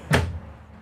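A large kitchen drawer in a 2024 Winnebago Vita 24P motorhome slides open with one quick, close thump and a brief low rumble, then goes quiet.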